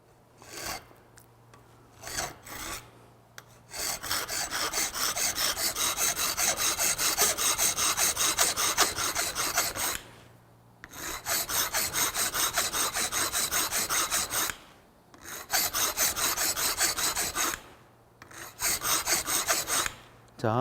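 A hand file rasps back and forth to enlarge a hole in copper pipe, producing long, steady scraping strokes at close range separated by short pauses.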